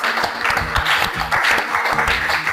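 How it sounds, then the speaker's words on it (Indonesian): Tenth-grade Indonesian-language class applauding together: loud, close, lively clapping in waves, with some students' voices mixed in beneath it. "tepuk tangan untuk kita semua"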